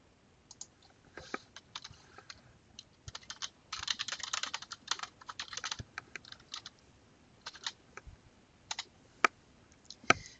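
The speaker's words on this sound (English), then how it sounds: "I'll begin typing in the various search terms we identified in our PICO chart" Someone types on a computer keyboard, entering search terms into MEDLINE. Irregular bursts of key clicks are close and clear, with a denser flurry in the middle and a few sharp keystrokes near the end, no talk.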